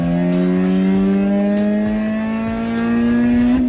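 Honda Civic EG with a D15B engine revving hard, its pitch climbing steadily at high RPM and then shifting into third gear. The engine is loud and close and sustained throughout.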